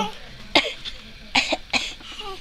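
A young child coughs three times in sharp, separate bursts, close and fairly loud, with quiet pauses between them.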